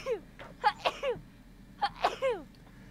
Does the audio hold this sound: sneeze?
yes